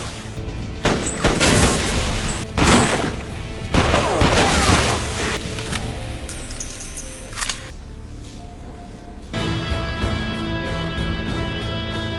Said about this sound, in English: The two exchange gunfire.